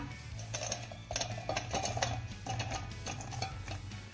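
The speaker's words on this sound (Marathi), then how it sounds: "बटाट्याच्या अशा फोडी करून घेतलेल्या आहेत या देखील आपण आता मिक्सरच्या भांड्यामध्ये काढून घेऊया" Raw potato pieces tipped into a steel mixer jar, a string of light clinks and knocks against metal with a soft scraping rustle, close and quiet, no talking.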